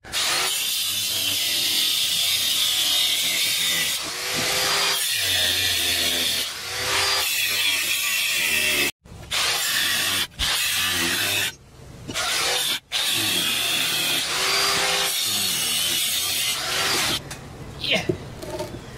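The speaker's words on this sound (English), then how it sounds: "we're making the next cut to separate this steering bit" A saw cuts through a metal steering spindle to separate the steering section, loud rasping strokes in long sustained runs broken by a few brief pauses, close up with no talk.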